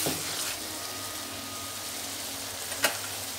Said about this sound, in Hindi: हमारा जो ये मटर वाला भरता हम बना रहे हैं इसका मसाला जो है ये भुन करके तैयार हो जाएगा